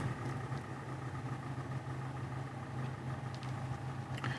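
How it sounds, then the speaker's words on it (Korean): A Hyundai LF Sonata engine runs at idle, a steady low hum with a faint rhythmic clatter on top, even and unbroken, with no voices. "이 뉴 엔진에서 비슷한 소리들이 좀 많이 들립니다"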